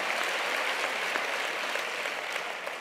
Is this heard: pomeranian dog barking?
no